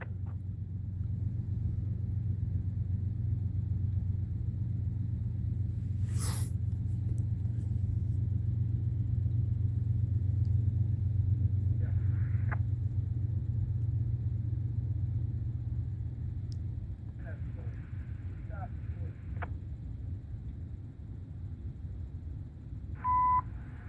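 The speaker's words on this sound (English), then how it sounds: "we got a CN westbound train coming down the line" A CN westbound freight train passes trackside at night, heard as a low, steady rumble that holds for about seventeen seconds and then fades, with a few faint beeps.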